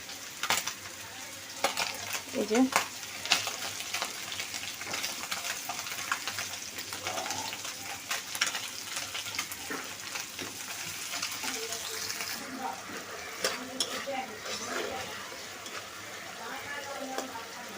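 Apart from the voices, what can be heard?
fish frying in oil in a pan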